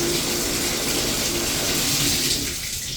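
Water gushing from a tap in a newly renovated basement washroom, a steady loud hiss of running water that continues without pause.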